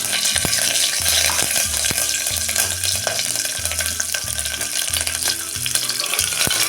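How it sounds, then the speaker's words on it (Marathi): Green chillies and curry leaves hit hot oil with crackling mustard seeds for a no-onion, no-garlic masala rice, giving a loud continuous sizzle dotted with sharp pops and the scrape of stirring. "मोहरी तडतडली आहे त्यात आता टाकायच्या आहेत ह्या हिरव्या मिरच्या कढीपत्ता"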